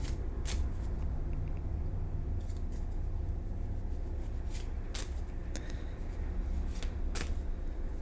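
Tarot cards being shuffled again and again, soft riffling broken by sharper snaps every second or so, over a low steady room rumble with no talking.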